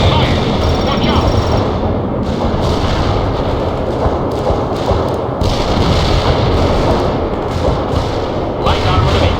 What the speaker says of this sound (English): They are attacking us. Incoming fire.